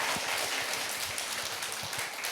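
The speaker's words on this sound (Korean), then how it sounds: "뜨거운 박수로" Warm applause from a church congregation at a lecture, a dense steady patter of many hands clapping at moderate distance, continuous and even throughout with no voices over it.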